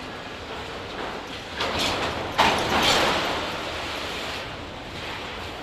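Norfolk Southern train NS 188 passes northbound through Cohutta, Georgia, producing a steady, moderately loud broadband rumble of rolling cars and rail noise that swells slightly midway, with no voices.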